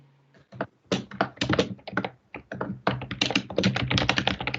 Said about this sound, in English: Sorry, just typing that up.